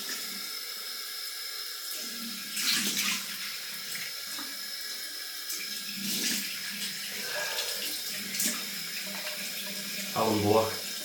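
Tap water runs into a sink for wet shaving, a steady hiss with a few louder splashy surges and a brief gurgle near the end, heard close up.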